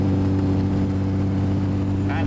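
An Austin Healey 100/6 engine idles nearby under restoration, a steady low droning hum with strong rumbling tones throughout.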